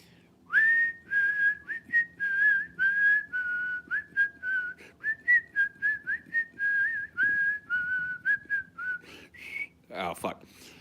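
A person whistles a theme tune alone, a run of sustained, slightly wavering notes broken into short phrases, fairly close and clear, ending in a brief breathy burst.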